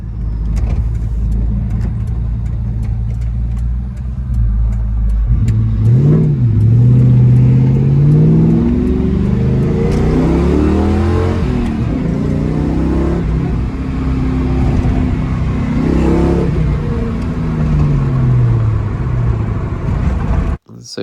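A zinc yellow 2002 Ford Mustang GT with a 2V V8, running on 91 octane and running smoothly, idles loudly and close, then rises in two distinct revs. A person talks over the engine throughout.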